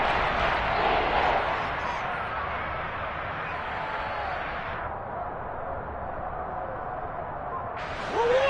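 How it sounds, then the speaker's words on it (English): Broadcast-style crowd noise from a Madden NFL football game swells loud and steady as a big third down approaches, a continuous roar that dips slightly midway before surging again near the end. "the crowd getting into it as we come up on a big third down"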